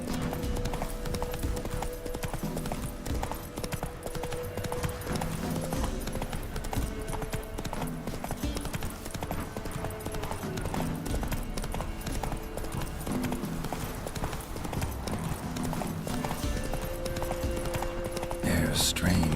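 In The Witcher 3: Wild Hunt, the horse Roach gallops in a fast, continuous clip-clop of hooves layered under a music score, with a character's voice heard briefly.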